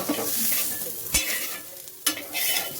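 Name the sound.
frying onions until golden in a pan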